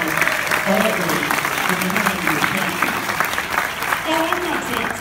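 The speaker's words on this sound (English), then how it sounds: "I'm getting you applause and you sit there" A convention audience at a Q&A panel claps through the whole moment, moderately loud and continuous, with a voice talking over the applause at times.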